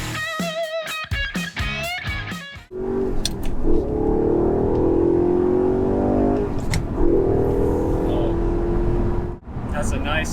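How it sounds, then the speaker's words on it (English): A 2014 Audi R8 Spyder's naturally aspirated V8 pulls away and revs hard, a loud sustained snarling engine note that rises and holds for several seconds after a short stretch of talk. "that's the sound of that naturally aspirated V8"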